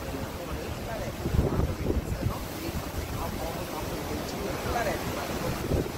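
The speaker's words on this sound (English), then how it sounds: "All the water from the Region Center flowing in." Rushing floodwater churns steadily under heavy, buffeting hurricane wind noise in Hurricane Dorian in the Bahamas, a continuous roar with no pauses.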